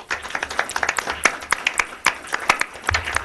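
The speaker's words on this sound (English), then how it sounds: "I want to give them a round of applause." A small audience at a park district board meeting gives a round of applause, sparse individual claps in an uneven rhythm, near and fairly loud, a few distinct hands rather than a full crowd.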